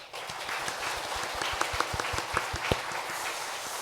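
Church congregation applauding in thanks at a Sunday service, a short burst of steady, rhythmic clapping from many hands in a reverberant hall.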